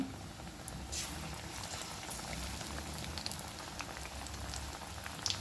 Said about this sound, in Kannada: ಎಣ್ಣೆ ಬಿಸಿಯಾಗಿದೆ ಜಾಸ್ತಿ ಬೇಡ ಒಂದು ಅಥವಾ ಎರಡನ್ನು ಬಿಡ್ತೇನೆ